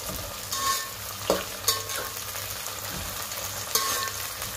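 Dried fish with bean seeds, eggplant and potato being stirred in a pan, a steady frying hiss with a few sharp scrapes and clinks of the spoon, fairly quiet and close, no voices.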